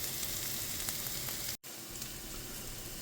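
Onions and spices sautéing in a pan for a vegan penne alla vodka sauce, a soft continuous hissing sizzle at a low level, briefly cut to silence midway, with no voices.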